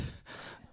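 A person imitates the labored, gasping breaths of a struggling swimmer, short rough inhales and exhales, close and fairly quiet.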